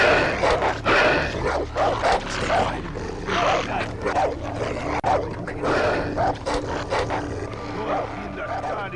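Dogs in Far Cry 3 bark and snarl in rapid repeated bursts, loud and close, amid growling game noise with a voice also mixed in.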